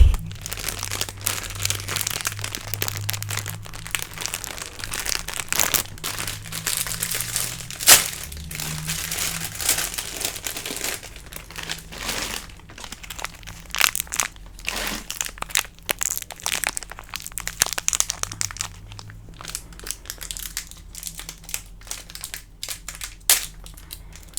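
Repeated crinkling and crunching of a packet with scattered crisp crunches, close and fairly loud, continuing in irregular bursts with no talking.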